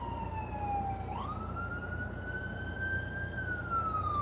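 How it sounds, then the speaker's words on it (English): An ambulance siren wails behind a moving car near a hospital, its rising and falling tone clear and fairly close over a steady low rumble of road noise. "Ambulance coming right behind us here."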